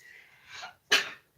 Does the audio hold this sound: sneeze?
yes